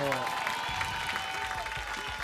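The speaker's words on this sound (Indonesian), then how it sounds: "Tepuk tangan dong buat studio-studio" A television studio audience claps in a steady, dense applause that fills the room, with a host's voice talking over it.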